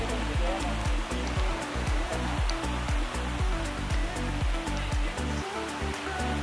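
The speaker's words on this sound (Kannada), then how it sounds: "ನೀರು ಹರಿತಾ ಇದೆ." A stream in a Western Ghats valley during the monsoon runs as a loud, continuous rush of water from close by, with a broad, steady roar and no voices heard.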